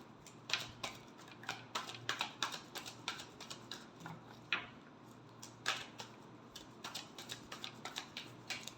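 Tarot cards shuffled by hand in a quiet room, a soft run of quick papery ticks and flutters in irregular bursts, faint and close, with no voices.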